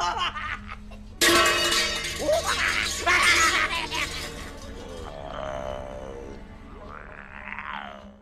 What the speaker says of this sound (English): causing it to be smashed and give off another stupid cartoon sound effect